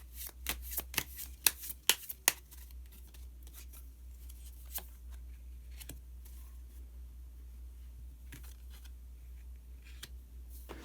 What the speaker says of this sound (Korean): 카드 한 장을 더 뽑고 이야기 계속 나오도록 하겠습니다